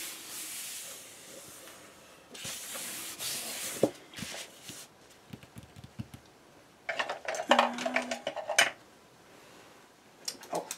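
A bone folder rubs and presses paper pieces of a divider folder mini album, giving soft, dry scraping strokes in short bursts, with a few light taps and a brief squeak near the middle.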